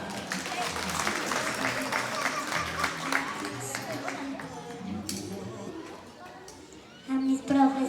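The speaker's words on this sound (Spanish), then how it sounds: "Fuerte los aplausos para la nena." At a Teacher's Day tribute in a village school, an audience claps for a young girl called forward, the applause moderate and mixed with chatter and voices, fading toward the end.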